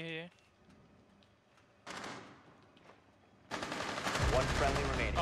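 Gunfire in a tactical shooter video game: a short burst, then a longer sustained volley of rapid automatic shots, loud and close, after a brief spoken moment at the start.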